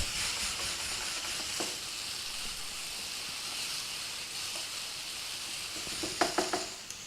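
Potatoes fry in a pan with a constant bright sizzle, and a few clattering stirs of the spoon break through, one early and a quick cluster near the end.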